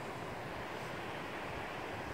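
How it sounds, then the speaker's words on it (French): Deep, fast river flowing beside a campsite on a glacial moraine in Alaska, a constant broadband rush that stays steady and moderately distant throughout, with no voices. "là-bas derrière, on a la rivière qui est un peu profonde, un peu rapide"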